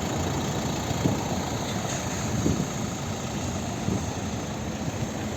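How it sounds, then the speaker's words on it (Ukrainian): A steady, smooth 2017 Renault Megane IV 1.5 dCi diesel engine idling close by, a constant low rumble with a slight hiss and no talking. "Автомобіль заведений, працює дуже рівно тихо."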